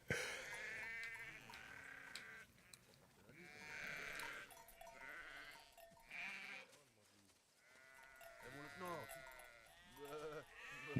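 Sheep in a video game letting out repeated bleats, several wavering cries in bursts over game ambience, with people talking around them.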